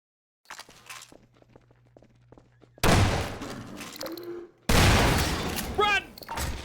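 Loud bursts of booming explosions and gunfire in Half-Life 2: Episode 1, coming in sudden heavy blasts after a quieter stretch of clicks.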